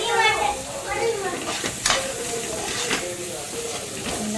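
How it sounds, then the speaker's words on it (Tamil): Pulao ingredients sautéing in a pan with garam masala, a steady hiss and sizzle running throughout with occasional sharper bursts, under faint background voices. "போட்டு நல்லா வதக்கணும்."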